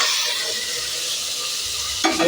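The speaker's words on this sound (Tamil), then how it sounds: "இப்போ வெங்காயம் எல்லாம் நல்லா வதங்கிக்கிட்டு இருக்குது." Onions sautéing in a pan for kurma, a steady close sizzle with stirring scrapes and a brief louder clatter near the end.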